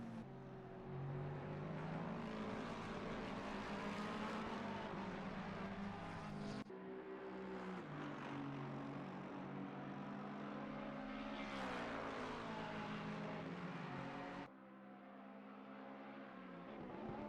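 Race cars lap Zandvoort in the Assetto Corsa Competizione racing game, with a continuous engine drone that rises and falls in pitch as the cars shift and corner, broken by two abrupt cuts in the sound.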